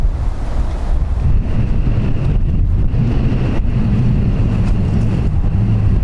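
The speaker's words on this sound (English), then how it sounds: "The crosswind's that bad, it's moving" Strong crosswind at Dublin Airport buffeting the microphone, a loud, continuous low roar with gusting surges throughout and no voices.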